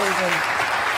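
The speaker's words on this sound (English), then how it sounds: "just please give a round of applause for Liz and" An audience applauds interview guests at The Atlantic Festival: a dense, steady wash of many hands clapping at full volume while a voice trails off at the start.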